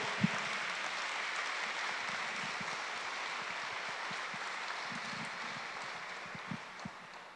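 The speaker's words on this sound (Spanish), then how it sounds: "Alábelo con todo el corazón, dele fuerte ese aplauso" A church congregation applauds in worship, a soft, distant, steady wash of many hands clapping that goes on evenly throughout, with a few sharper claps standing out.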